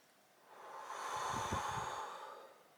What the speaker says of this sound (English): I'll breathe in